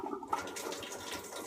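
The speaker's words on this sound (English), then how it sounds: "I'm going to dump it out. This is just water. Dump again." Rinse water poured out of a black-and-white film developing tank, a short, close splashing gush that runs steadily for a second or so, with no talking.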